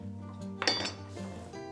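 A plate and dishes clinking in a home kitchen while kofta curry is prepared, a few close, bright clatters with a short sharp clink in the middle and steady background hum.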